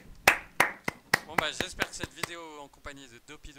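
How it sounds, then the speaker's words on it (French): Several sharp hand claps ring out in an uneven burst, close by, then give way to people talking and laughing. "on peut s'applaudir"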